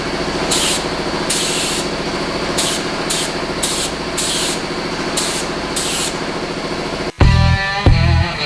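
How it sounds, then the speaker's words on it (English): Repeated bursts of hissing spray as epoxy is sprayed onto a BMW E39 car body, short pulses over a steady mechanical drone, then a sudden clunk and a couple of louder knocks at the end. "I'm gonna go spray it on the car"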